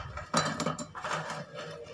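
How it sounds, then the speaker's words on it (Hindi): Biscuits drop and rattle into a small mixer grinder jar, giving a few clattering, clinking knocks against the container, close by and moderately loud with no talking. "अब हमारे पास छोटा जार है तो हम पहले थोड़े बिस्कुट डाल के पीसेंगे। देखिए मैं थोड़े से बिस्कुट डाल रही हूँ"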